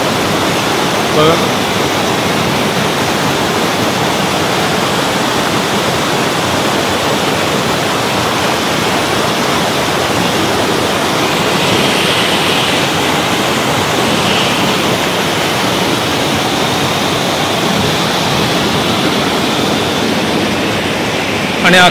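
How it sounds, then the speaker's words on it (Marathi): A forest waterfall, seen from a rough trail during a trek, gives a loud, unbroken rushing roar that holds steady from start to finish. "पण धबधबा प्रचंड सुंदर आहे"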